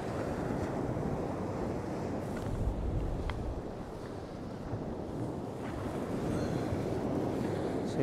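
Steady wind buffets the microphone along the shingle shore at Pevensey Bay, with surf washing in continuously beneath it; the roar stays loud and unbroken with no voices present.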